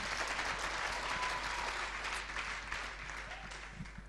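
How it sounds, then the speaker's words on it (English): A church congregation claps for the morning worship music team, a dense wash of applause that holds steady and then gradually thins out toward the end. "Let's clap to the Lord for Lydia and the team"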